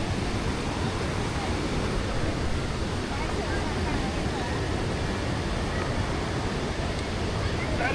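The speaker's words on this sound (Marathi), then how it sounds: "हे बघा हा मेन मोठा आहे धबधबा" Kondeshwar waterfall in full monsoon flow: a loud, steady, broadband roar of falling water that never lets up, close and continuous for the whole stretch.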